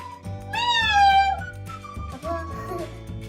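A voice imitates a cat's meow in a drawn-out, rising and falling cry, followed by a second shorter meow-like sound.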